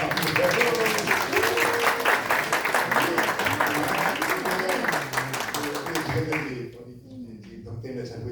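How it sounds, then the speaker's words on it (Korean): Attendees at a Korean YMCA national convention general assembly in Busan clap in encouragement, a full, even applause that holds for about six seconds, then fades to scattered claps while a voice talks over it throughout. "그 감사와 그 광양 MC의 격려 박수 한번 드리면 어떨까 부탁합니다"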